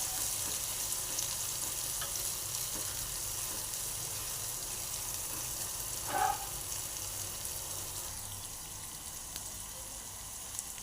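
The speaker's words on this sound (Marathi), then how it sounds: "कांद्याला असं सोनेरी कलर येईपर्यंत आपण कांदा भाजून घेऊया" Finely chopped onion frying in a pan with curry leaves and fennel seeds for a dhaba-style whole masoor dal, a steady soft sizzle with one brief louder stir partway through, no talking.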